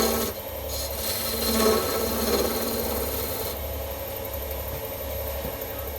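A wood lathe spins a wooden box blank while a tool cuts a slight dovetail, giving a steady rasping scrape over a low motor hum, close and fairly loud without speech.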